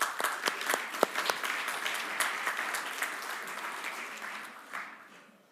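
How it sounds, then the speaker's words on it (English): A modest group claps, with sharp individual claps standing out early before the applause thins and tapers off. "give her a round of applause"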